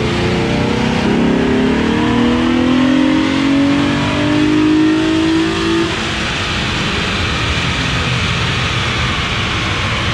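A tuned car engine revs hard during a dyno power test, a loud sustained rising roar that climbs in pitch for several seconds, then drops back to a heavy, rumbling idle-like drone with no talking.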